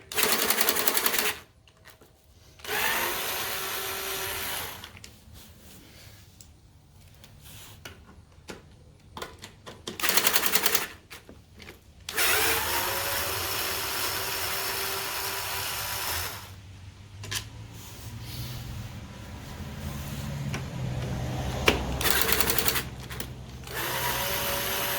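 A power tool whirs in short bursts while bolts come off a lawnmower air filter bracket during carburetor replacement, with quieter gaps between the runs and a longer steady stretch later.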